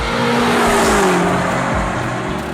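A BMW hybrid accelerating as the engine kicks in, with a loud whirring hum under a rising then falling engine tone, recorded close from inside the car.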